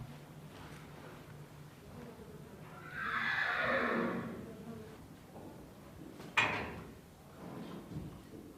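Large Arabian horses neigh: one long, descending whinny swells up midway, followed by a sharper, sudden call and a shorter one at the end, fairly close over quiet stable background with no talking.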